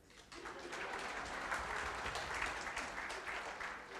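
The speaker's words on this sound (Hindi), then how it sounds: "इस बात के लिए ताली बजाइए" Audience applause at a live speech event, a broad steady wash of clapping that swells quickly and holds for several seconds at moderate loudness, with no talking over it.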